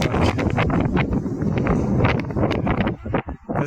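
Heavy wind roars across the microphone at the top of a hill by a water pumping site, loud, broadband buffeting that holds steady for several seconds, then breaks into a few choppy gusts near the end.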